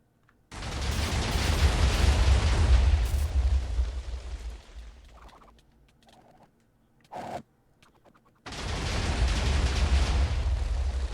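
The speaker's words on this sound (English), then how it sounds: "Some massive explosions." Big Minecraft mob-battle explosions roar in a long sustained blast, fade into quieter scattered crackles with one sharp burst, then a fresh loud explosion swells back up.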